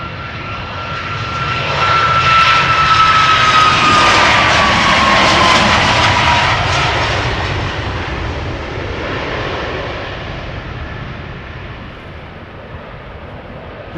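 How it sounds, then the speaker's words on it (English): A TUI Boeing 737 MAX 8 jet departs Schiphol toward Lanzarote, its loud engine roar swelling to a peak with a falling whine as it passes, then fading into the distance. "Up next, it's a TUI 737 MAX 8 going to Lanzarote"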